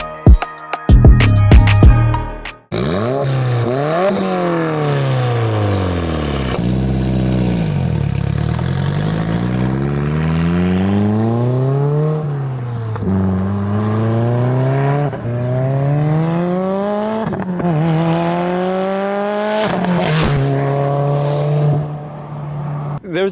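A turbocharged 2022+ Subaru WRX with a big turbo kit on E40 fuel revs hard, its pitch sweeping up and down through repeated gear changes as it accelerates past, loud and close after a brief opening clatter.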